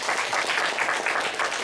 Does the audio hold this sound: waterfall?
no